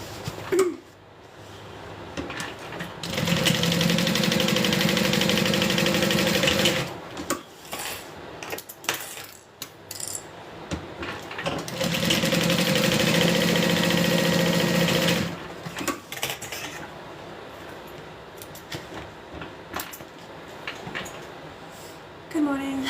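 A sewing machine stitches down the sides of a Colette bowler-style handbag in two long steady whirring runs, separated by quieter pauses with handling sounds and a voice talking.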